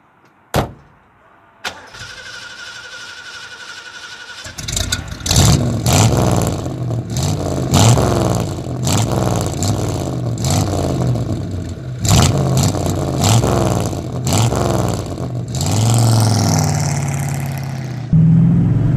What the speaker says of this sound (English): now I want to drive this car, so let's put on my gloves and drive